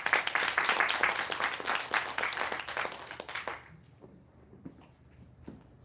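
An audience claps after a talk on the eight steps to success, a dense, steady applause that thins out after a few seconds into scattered, fading claps.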